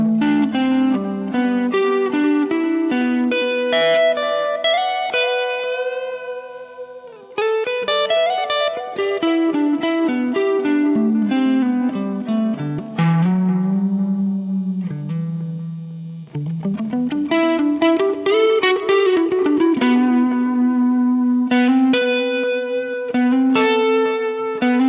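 A distorted Stratocaster electric guitar plays sustained notes and sliding bends with a thick, saturated tone, loud and continuous.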